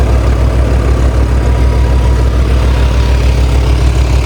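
A tractor engine runs steadily in a wet field during preparation for a soybean crop, a loud, continuous low rumble close by with no speech.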